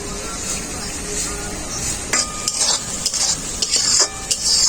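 Spice paste (masala) for an egg and brinjal curry sizzles steadily in a pan while a utensil scrapes and stirs it in quick, irregular strokes that grow busier toward the end; close and fairly loud, with no talking.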